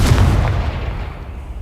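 A single heavy blast from the Confringo fire spell in Hogwarts Legacy, a deep booming burst that hits at the start and rumbles away within a second and a half.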